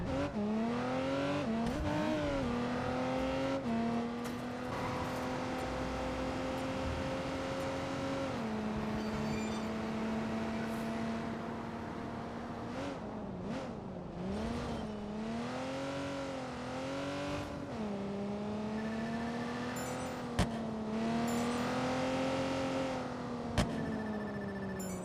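A car in Watch Dogs 2 drives hard, its engine droning and revving up and down through gear changes and turns, with a couple of sharp impact clicks near the end.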